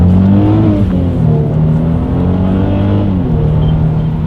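Engine of a 2018 Mercedes-Benz E400 Coupe revving during a paddle-shift test, heard from inside as a loud continuous drone that rises and drops with gear changes, with no talking.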